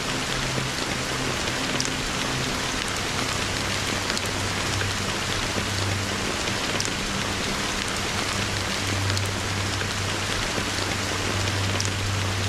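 Steady rain in the video game Honkai: Star Rail, a dense, constant patter on surfaces with a low hum underneath, unbroken and fairly loud throughout.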